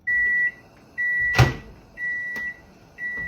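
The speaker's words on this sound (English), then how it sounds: "I usually just put this in the microwave for like 45 seconds." A microwave oven heats a Morningstar Farms veggie sausage patty; a steady tone sounds in evenly spaced bursts, and a sharp clunk lands early on.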